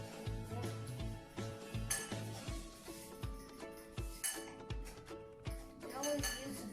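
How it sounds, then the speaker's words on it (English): A dinner knife cuts through sausage on a plate, producing repeated light clinks and taps of metal on crockery in a steady rhythm over a background of tonal sound. "I'm cutting the sausage"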